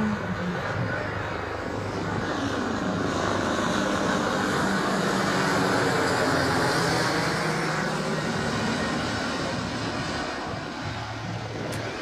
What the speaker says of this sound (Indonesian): Kalau di sini hampir tiap hari ya helikopter tuh lewat ya di atas tuh.